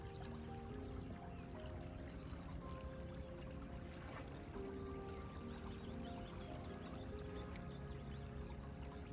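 A river below Cambuskenneth Abbey at dawn gurgles past submerged rocks, a faint, steady burble of flowing water with soft trickling detail and no pauses.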